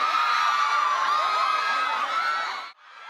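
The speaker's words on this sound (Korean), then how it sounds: "방탄소년단이 도착하자 몇 시간을 기다리던 팬들의 환호가 터졌습니다" Fans who waited for hours scream and cheer as BTS arrive at an awards ceremony. A shrill, sustained crowd roar holds steady, then cuts off abruptly near the end before briefly picking up again.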